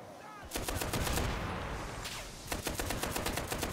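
Gunfire in the video game Enlisted during a zombie horde defense mode: a sustained burst of rapid automatic fire lasting over a second and a half, a short pause, then another fast burst, fairly close and steady.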